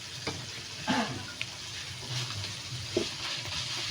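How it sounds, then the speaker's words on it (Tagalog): Vegetables for pancit fry in a pan with a low steady sizzle, broken by a few brief stirring clatters and scrapes, close by with no talking. "Medyo piprito ko lang ng kaunti yung ano."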